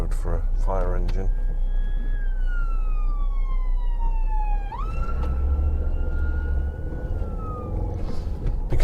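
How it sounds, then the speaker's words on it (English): A fire engine siren wails along a narrow road, a loud sweeping tone gliding down then jumping up as it passes close, over steady car engine noise, with brief talk near the start. "I don't want to block the road for a fire engine."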